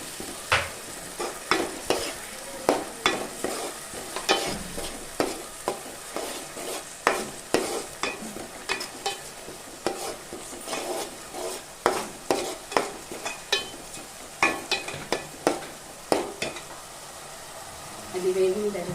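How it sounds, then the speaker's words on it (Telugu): A spatula stirs frying ingredients in a pan for a spicy Nellore-style drumstick curry. Repeated scraping strokes come in an irregular rhythm over a continuous low sizzle, close and fairly loud, with no voices. "సో ఇది కూడా కొంచెం ఫ్రై చేసుకోవాలి"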